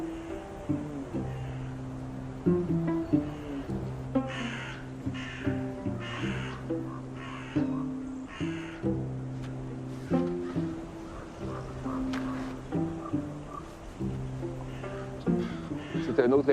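Crows caw repeatedly in a forest, a series of harsh rhythmic calls in bursts at moderate distance, with faint rustling between and some quiet background sound.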